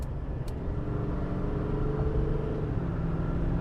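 A 2021 Chevrolet 2500 HD LTZ 4WD pickup's engine pulls hard on the road, a steady deep rumble and drone heard from inside the cab, continuous and fairly loud with no talking.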